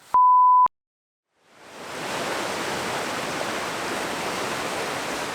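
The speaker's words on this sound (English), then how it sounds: "The wet weather that we had last week has continued into the weekend, and our rivers now are absolutely raging." The River Brathay between Elterwater and Skelwith Bridge, raging in flood after days of wet weather, gives a loud, steady broadband roar of rushing water that swells up and holds. A short tone beep comes before it.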